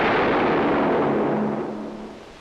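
A single heavy gunshot boom in a 1962 anti-communism film, loud and close, with a long rumbling tail that slowly fades over a couple of seconds.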